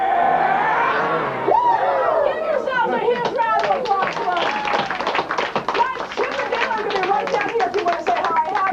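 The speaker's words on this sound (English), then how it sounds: "Give yourselves a huge round of applause." Audience at a live Chip 'n Dale character show clapping, with scattered taps and chatter mixed in, under excited voices and cheering throughout.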